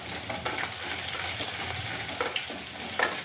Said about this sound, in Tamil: பெரிய வெங்காயம் வந்து எடுத்து நீளவாக்கில் கட் பண்ணி வச்சுருக்கேன், அதை ஆட் பண்ணிக்கிறேன்.